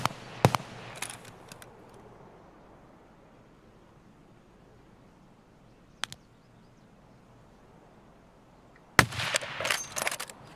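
Distant gunfire from a firefight in Escape from Tarkov: a few isolated sharp cracks early on, then a louder cluster of rapid shots near the end, over a quiet ambient background.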